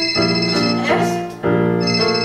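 A mobile phone rings on a theatre stage during a live musical performance: bright, sustained electronic ringtone notes that repeat in two bursts with a short dip between, loud and alone.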